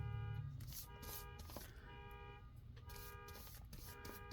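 Vehicle horn from a truck parked outside, sounding in repeated bursts with steady tones, distant and muffled against indoor room noise.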